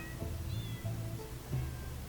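Cats meowing in the video game In Purr Suit, several short quiet mews in a row over faint background game sound.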